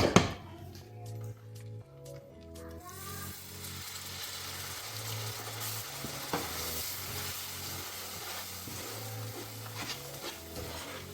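Prawn pickle masala sizzling and frying in a pan as vinegar goes in, a steady close crackle with intermittent stirring scrapes throughout, no talking.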